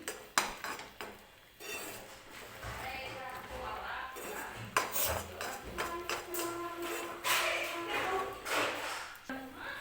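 Peanut powder being stirred into hot jaggery syrup in a pan for chikki, with repeated clinks and scrapes of a spoon against metal, fairly close and irregular, some faint background noise.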